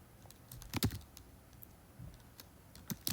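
Light tapping on an iPad's on-screen keyboard, a few quick irregular clusters of soft clicks, close and quiet with no voices.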